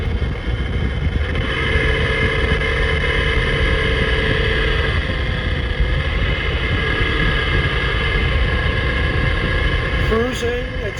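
A car cruising steadily in fifth-gear overdrive on the road, with a loud, continuous engine drone and road and wind noise throughout and a brief rattle near the end.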